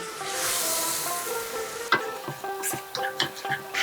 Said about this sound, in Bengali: এই যে মাছ ভাজা তেলটা, এটাকে এখন আমি দিয়ে দিচ্ছি